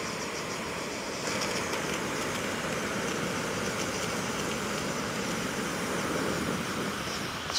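Soto StormBreaker camping stove with its pump blowing fuel out of the lines, a steady, fairly quiet rushing hiss that carries on evenly for several seconds.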